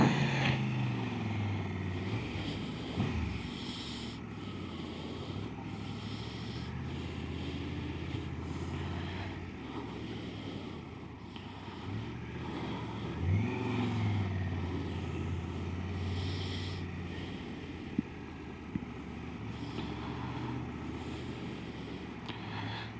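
Busy street traffic on a main road flows past steadily, with cars and trucks rumbling by amid gusty wind buffeting the microphone and occasional louder close passes.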